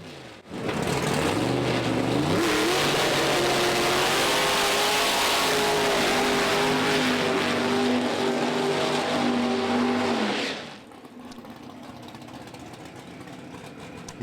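A Mountain Motor Pro Stock drag race car does a burnout at a drag strip, a loud, close engine roar that climbs in pitch and holds at high revs for about ten seconds with tire squeal, then cuts back to a lower idle.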